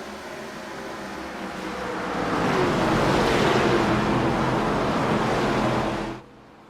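ARCA Series stock cars race past at Pocono Raceway, a broad roaring engine wash that swells in over two seconds, holds loud and steady, then cuts off abruptly near the end with no talk.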